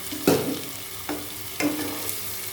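Chopped tomato and onion sizzle steadily in oil in a pan while a utensil scrapes and stirs in a few distinct strokes, close by, with no voices.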